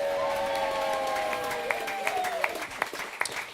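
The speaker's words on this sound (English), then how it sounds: "Everyone give her a round of applause" Live audience at a comedy gaming show applauding, scattered claps building with some sharp individual hand claps, mixed under a sustained hum of voices and ambient tones.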